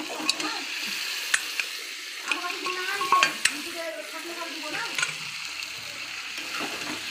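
Mutton goes into a frying spice masala, giving a close, crackling sizzle with wet splatters and sharp clicks of a utensil, the bubbling rising and settling over several seconds.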